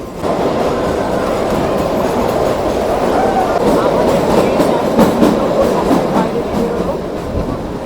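The Kalka–Shimla toy train climbing toward Shimla, a loud steady rumble and rhythmic clatter of wheels on rails heard from inside a crowded carriage, with voices murmuring underneath.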